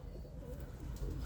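Birmingham Roller pigeons cooing in a loft: soft, low, rolling coos heard faintly against a murmuring background.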